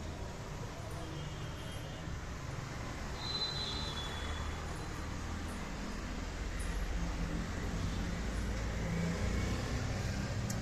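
Low, steady rumble of road traffic passing outside a building plot, distant and continuous with a faint hiss, rising slightly toward the end.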